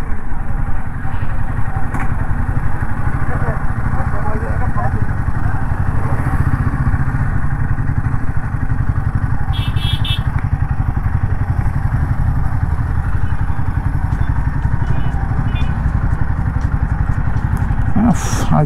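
Royal Enfield Himalayan 450 motorcycle being ridden on an unpaved route, a steady close engine drone with rhythmic exhaust pulses and wind rush throughout, plus a few faint clicks and rattles.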